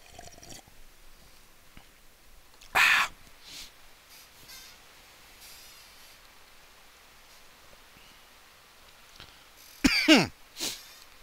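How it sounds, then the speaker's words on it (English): Two separate coughs, one near the start of the stretch and a sharper double cough near the end, loud and close against quiet background hiss. "Cough."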